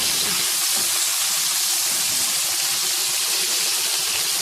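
Okra frying in a pan, a steady, loud sizzle and hiss of hot oil that holds evenly from start to finish with no talking.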